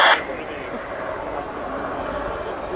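An Apache gunship helicopter at an air show gives a steady, broad rotor-and-engine roar that holds throughout, with a brief sharp burst at the start.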